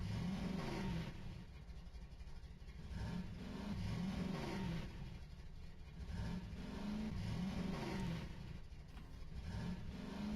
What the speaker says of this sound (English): I thought I heard something in the game, but it's just someone's shitty car outside.